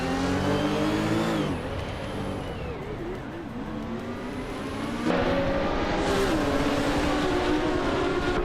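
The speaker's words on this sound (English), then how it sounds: "driving a vintage Lancia Stratos Turbo" A vintage Lancia Stratos Turbo race car in a racing video game drones loudly, its engine pitch rising and falling through gear changes as it accelerates, with other race cars heard around it.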